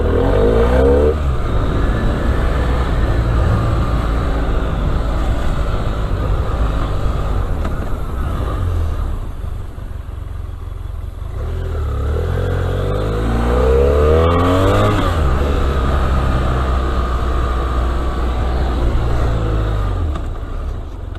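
A BMW F 800 R motorcycle on a licence-training track, weaving through an avoidance slalom. Its engine drones steadily up close, with the revs repeatedly rising and falling and one short dip in the middle.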